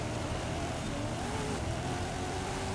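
An old-school Pontiac's engine drones steadily in Forza Horizon dirt racing, a constant, loud motor hum with a slight rise and fall in pitch and no voices.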